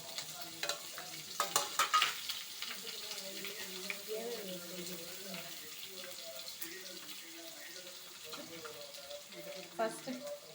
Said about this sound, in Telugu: ఫస్ట్ అయితే మనం ఆయిల్లో పోపు వేసుకున్నామండి. ఆ పోపులో వేరుశనగపప్పు, పల్లీలు అయితే ఏవి వేసుకుంటామో తాలింపు గింజలు అవి, పచ్చిమిర్చి వేసాము, ఆనియన్స్